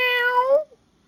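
A pet cat named Kiki gives a single clear, close meow lasting about half a second, drawn out and then falling away into near silence.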